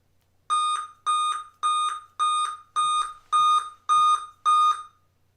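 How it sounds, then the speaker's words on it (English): Dell Inspiron M5030 laptop sounding its startup error code: eight evenly spaced, loud electronic beeps in a steady rhythm, alone without speech. "what does 8 beeps mean for an Inspiron M5030"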